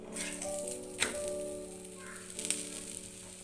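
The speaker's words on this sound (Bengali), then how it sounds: "চলো আমি ভাজি তোমাদেরকে দেখাচ্ছি" Food frying in a pan, a faint steady sizzle under a sustained humming tone, with a couple of small clinks.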